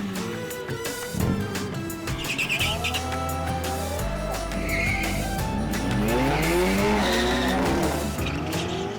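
A BMW XM races down a drag strip quarter mile and crosses the finish line at about 191 km/h, its engine note rising loudly through gear changes with tire squeal and a sustained high-speed roar.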